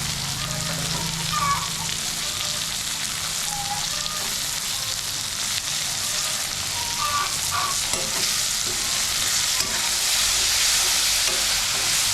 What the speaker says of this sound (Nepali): तपाईले यसमाथि टमाटर खन्याउनुहोस् र मजाले चलाउनुहोस्।